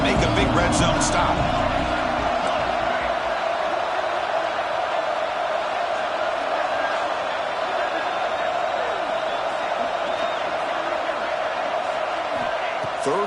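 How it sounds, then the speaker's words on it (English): A stadium crowd at an American football game roars during a third-and-goal defensive stand, a continuous, loud, even wash of noise with a faint voice beneath it. "This crowd is trying to inspire this defense to make a big red zone stop."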